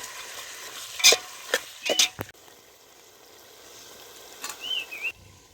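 A few sharp scraping clinks of a spoon stirring whole spices in a pan, over a soft, quiet sizzle of frying in oil.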